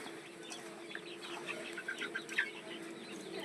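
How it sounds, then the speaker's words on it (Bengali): Soft clucking and chirping from chickens pecking at a mix of rice and grass, faint and close, with small scattered sounds of movement. "দেখাবো যে আমার মুরগিগুলো কেমন খায়"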